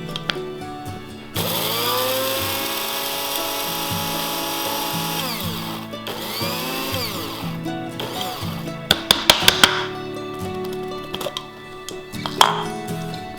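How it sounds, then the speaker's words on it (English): An electric grinder whirs through dried herb leaves, its motor rising and falling in pitch across several bursts, with a few sharp clinks and short pauses between runs. "And you can grind them up as small as you want."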